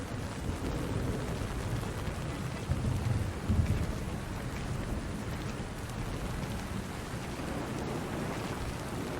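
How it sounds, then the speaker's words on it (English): Heavy rain pours continuously in Splinter Cell: Chaos Theory, a dense wash of falling water with a low thunder rumble swelling briefly near the middle. "Man, it's really raining."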